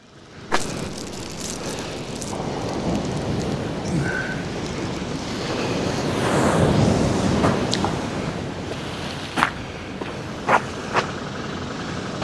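Sea surf on the beach at Whitby, a broad rushing wash of waves that swells and recedes, mixed with wind buffeting the microphone and a few sharp knocks near the end.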